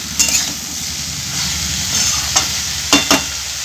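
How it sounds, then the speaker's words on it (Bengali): Fish head sizzling and frying in a pan of oil with green chillies and a piece of eggplant, a steady close crackle with a few brief clattering stirs and knocks near the end. "এই যে মাছের মাথা ভেজে দিচ্ছি"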